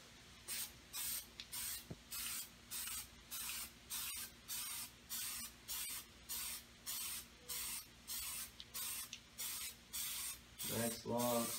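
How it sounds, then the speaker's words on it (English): A spray paint can hisses in repeated short bursts, about a dozen even strokes, while coating the sausage section of a TOS Enterprise model, close and steady. "so we're going to spray paint"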